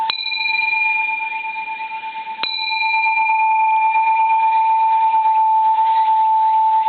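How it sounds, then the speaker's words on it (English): A small bronze Japanese Buddhist temple bell is tapped twice, each strike ringing out with a clear, sustained tone that lingers and slowly shimmers without fading much. "There's a lovely personal bell right there."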